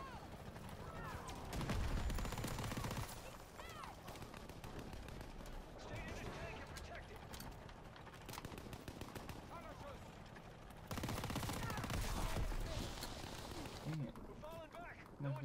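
Light machine gun fire rattles through a WWII-era video game battle, sustained bursts mixed with other gunshots, explosions and game noise, with a player talking over much of it.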